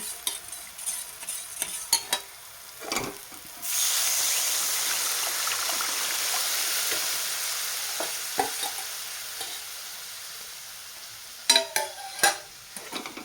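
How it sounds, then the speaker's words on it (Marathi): Cooked dal poured into hot tempering in a pot brings a sudden loud sizzle and frying hiss that lasts several seconds and slowly fades, framed by spoon stirring and scraping clinks before and after. "आणि आता ह्याच्यामध्ये घालूयात वरण"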